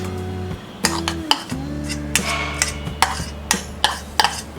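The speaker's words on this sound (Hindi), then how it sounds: "बाउल में डालेंगे हम ये स्लाइस्ड अनियन" Sliced onions tumble into a bowl for onion pakoda, with sharp clinks and clatters of a metal bowl and utensils at irregular intervals over a low steady hum, close and fairly loud, no talking.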